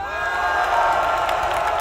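Arena crowd at a CS:GO match, North versus Mousesports on Mirage at DreamHack Masters Stockholm 2018, cheering in a loud continuous roar of many voices and whoops that stays steady and dense throughout.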